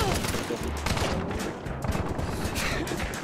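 Rapid gunfire in the game Hunt: Showdown, a dense run of overlapping shots that stays loud throughout, with voices underneath.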